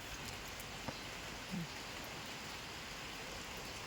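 Steady rain falling at a rural farmhouse, a faint, even hiss of drops throughout with a couple of soft taps and no voices.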